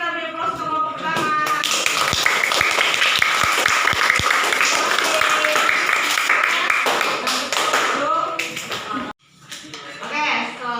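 Classroom applause for the first student group in a seventh-grade algebra lesson: dense, sustained clapping from many children, loud and steady for about eight seconds, then trailing off with voices talking.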